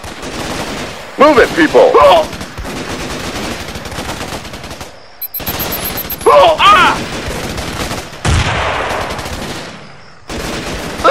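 Bursts of automatic gunfire and shots in the Xbox 360 shooter Raven Squad, loud and repeated in clusters, under shouted soldier voices and game combat chatter.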